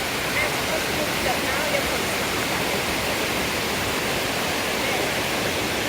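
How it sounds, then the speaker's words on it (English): The main falls at the Roberto Barrios waterfalls roar as a dense, constant rush of falling water, loud and close and unbroken for the whole stretch. "Beautiful waterfalls."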